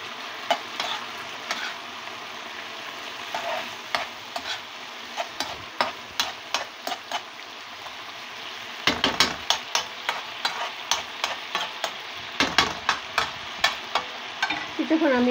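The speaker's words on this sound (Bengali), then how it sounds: "এইভাবে পাট শাক ভাজি করলাম" Jute leaves are stir-fried in a pan, a continuous sizzle broken by repeated sharp scrapes and clacks of a spatula against the pan, coming in uneven bursts that quicken toward the end.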